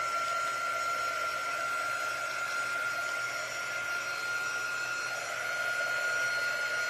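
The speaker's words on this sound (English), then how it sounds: "I am going to dry these pieces because they are not dry." A hair dryer blows steadily to dry freshly painted Christmas craft pieces, a continuous close whooshing hum with a faint high whine that holds even throughout, with no talking.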